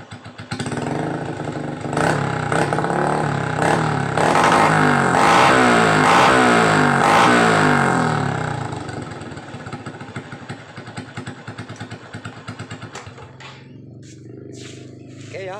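Motorcycle fitted with an HM1 exhaust whose filter has been modified, revving hard in several bursts up close, then easing down to a rough, lumpy idle with clattering tones near the end.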